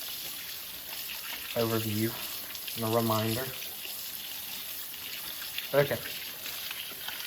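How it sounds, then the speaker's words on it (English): A tap runs steadily while hands are rinsed, a faint continuous hiss of water at a sink under a person talking. "turn the water off"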